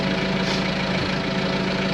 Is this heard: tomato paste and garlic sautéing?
no